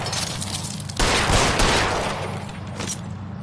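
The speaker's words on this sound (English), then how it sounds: "Keep shooting!" Gunfire in the video game LA Noire. A sudden loud volley bursts in after a quieter stretch and rolls on for about a second before easing back into a steady background roar.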